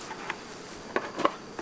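Honeybees buzz around honey supers as a fume board goes on, with a soft continuous hum and a few brief louder passes of bees flying close.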